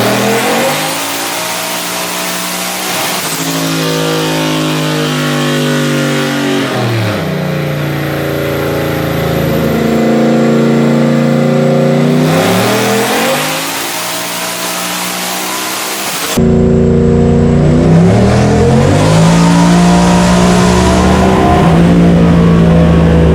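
A Nissan VK56 engine fitted with a bigger turbo revs hard on a dyno, loud and close, rising and falling through several long pulls with a brief drop between runs.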